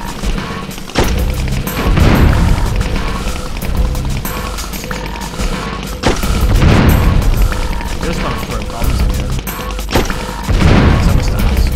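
Bomb explosions in the game Oddworld: Abe's Exoddus, three loud booming blasts spaced a few seconds apart, each with a broad crashing burst over a busy game soundtrack.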